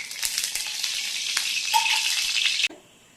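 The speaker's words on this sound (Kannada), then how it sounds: "ಇದೀಗ ಬಣಲೆ ಬಿಸಿ ಆಗ್ತಾ ಬಂತು. ಸ್ವಲ್ಪ ಆಯಿಲ್ ಹಾಕೊಳ್ತೀನಿ ನಾನು." Oil sizzling steadily in a hot pan on the stove, a loud close crackling hiss with small pops that suddenly cuts out near the end, leaving a faint quiet tail.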